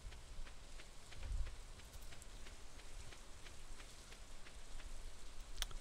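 Rain falling in Stardew Valley, a faint, steady patter with scattered soft drop ticks, continuous and distant.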